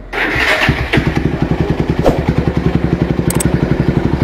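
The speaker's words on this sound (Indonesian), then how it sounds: "Cuman cukup sekali di starter langsung hidup." A Honda Tiger 2000 motorcycle, custom scrambler from 2003, cranks briefly on the electric starter and catches first try, then settles into a steady, loud, thumping idle with an even rhythm.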